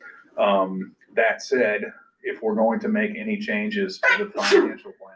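A single sneeze breaks into a man's speech during a work meeting about lab funding and financial plans, brief and close, with talking before and after it.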